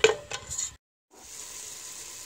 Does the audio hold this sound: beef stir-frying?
yes